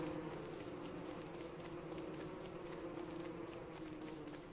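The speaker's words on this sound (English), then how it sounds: "Oh! Tons of mad bees, too." Angry bees in the video game Don't Starve make a faint, steady buzzing drone throughout, with no talk over it.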